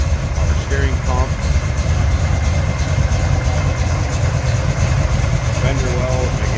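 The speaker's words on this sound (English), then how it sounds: "Look at that baby idle. There's a tough sounding muscle car." A 1972 Chevrolet Chevelle muscle car with HEI ignition idles with a steady, rough, low rumble, close and loud, while someone talks briefly.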